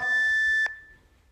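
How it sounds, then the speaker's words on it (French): Workout interval timer during a home bodyweight plank set gives a single sustained electronic beep lasting over half a second, then cuts off with a short click and a fading tail. "On est concentré jusqu'au bip."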